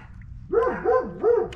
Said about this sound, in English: That dog was extremely loud.